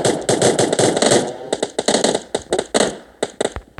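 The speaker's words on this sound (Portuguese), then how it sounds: "O cara tá atirando, mano." Loud, close gunfire in PUBG, opening with a dense automatic burst and then breaking into a choppy series of sharp single and paired shots.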